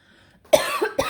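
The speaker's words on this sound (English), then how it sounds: "I had to take a little coughing break." Two sharp coughs in quick succession after a short quiet pause, close and fairly loud.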